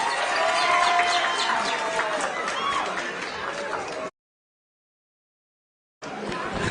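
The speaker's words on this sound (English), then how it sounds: "You may clap again." A political rally crowd in Kenya claps and cheers in a loud, dense roar for about four seconds, then drops to a gap of silence before the crowd noise resumes.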